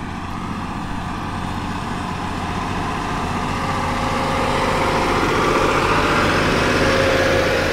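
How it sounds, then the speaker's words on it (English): A tractor's engine drones steadily as it drives over wet, juicy green beet tops in a field, a low continuous rumble growing slightly louder toward the end, with no talking. "it's a real test for any tractor to grip on top of that"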